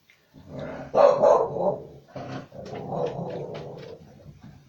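A dog barks close by in several rough, uneven bursts mixed with low growling, as if guarding its bone.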